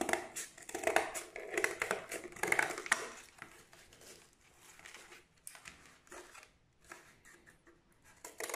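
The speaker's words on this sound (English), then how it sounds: "I'm cutting out this one by scissor, or you can use an inti cutter on the line of the diamond shape." Scissors cut a diamond shape out of paper, making a run of close, crisp snipping and rustling. The cutting is busier at first and grows sparser and quieter later.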